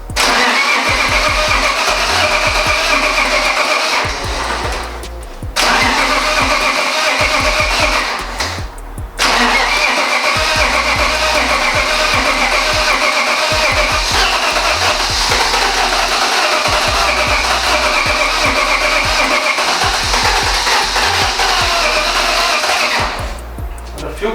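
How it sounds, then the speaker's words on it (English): A BMW E36 race car's fuel pump primes and the engine cranks and runs loud and close, with a few short gaps in the noise and people talking over it. "The fuel pump's starting."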